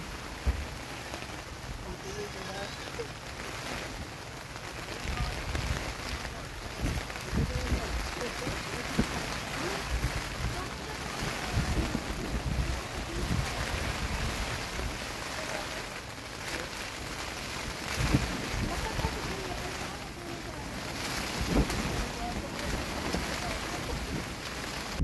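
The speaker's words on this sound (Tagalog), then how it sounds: "Umuulan eh." Rain falls steadily in the mountains during a storm, a dense continuous patter and hiss on surfaces, close and even throughout with faint low rumbles beneath.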